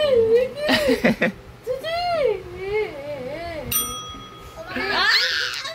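A bicycle bell rings once in a bright, sustained ding midway through, amid a child's sing-song chatter and laughter.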